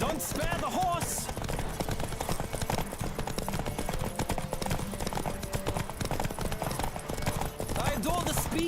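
Racing horse in The Witcher 3 pounds along at a full gallop, a dense, driving patter of hooves throughout, with a brief snort or whinny near the start and end.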